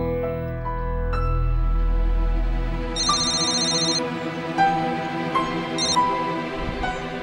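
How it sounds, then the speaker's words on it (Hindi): A mobile phone ringtone for an incoming call plays a bright, repeating electronic melody of short chiming notes, fairly loud and heard alone over a low background hum. "I am so sorry Kunal, मैं तुम्हारा फोन ही नहीं पिक कर पाया।"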